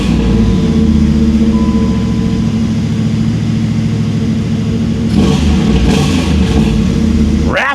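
A 1995 Pontiac Firehawk engine runs loud and close, rumbling steadily with a raspy exhaust note, then revs briefly a couple of times near the end.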